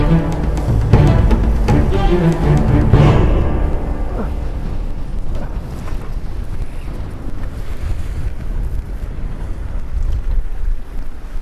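Strong wind blusters across the microphone at sea from a fishing boat off Chujado island, a loud rough roar that eases slightly midway and surges again, with water sloshing underneath.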